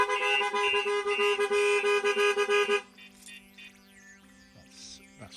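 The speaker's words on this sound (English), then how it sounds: "a heavy impact will give you a full alarm, and then 5 seconds later the horn kicks in." A StarLine S9 van alarm sounds through a Ford Transit Custom horn in rapid repeated honks for about three seconds, loud and close, then stops, leaving quieter chirping electronic tones.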